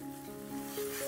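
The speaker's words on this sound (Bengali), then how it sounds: "এবারে গ্যাসের আঁচটা বাড়িয়ে দিয়ে আমি মশলাটা বেশ খানিকক্ষণ কষে নেব" Ginger-garlic spice paste frying over high heat for egg kofta curry, a soft steady sizzle with faint stirring scrapes, quiet and continuous.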